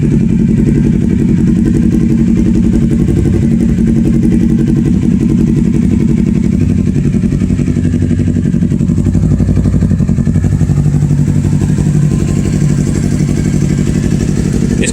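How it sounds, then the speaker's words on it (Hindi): A 2011 Kawasaki Ninja 250R motorcycle idles close up, its engine throbbing in a steady low, lumpy rumble that continues unbroken throughout. "ये इसका आइडल पे साउंड है।"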